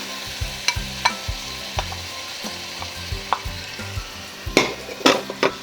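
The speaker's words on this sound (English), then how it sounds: "Add all the tomato sauce." Tomato sauce sizzles and bubbles in a hot pot as a spoon stirs it, with rhythmic scraping and sharp clicks of the utensil against the pot over a constant frying hiss.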